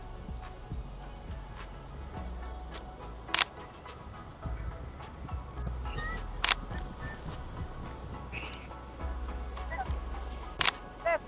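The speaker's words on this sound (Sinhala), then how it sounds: "ටක් ගාලා ෂොට්ස් දෙක තුනක් ගහලා මං ඔයාලට ඒක පෙන්නන්න" A camera shutter snaps a handful of photos at Brighton Beach in Melbourne: three or four crisp, isolated clicks spaced several seconds apart over a steady outdoor rumble of wind and surf.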